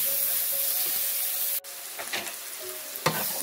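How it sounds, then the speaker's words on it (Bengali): Onions frying and being stirred in a pan, with steady loud sizzling and scraping strokes of a spoon, plus a brief gap and a few sharper clacks near the end; no talking. "পেঁয়াজগুলোকে খুব ভালোভাবে কষিয়ে নিচ্ছি"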